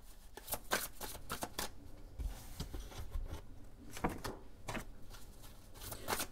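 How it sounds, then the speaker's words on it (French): Tarot cards are shuffled and drawn close by, with crisp riffling flicks and soft slaps coming in quick irregular bursts, plus a low thump partway through. "je te prends une carte par signe"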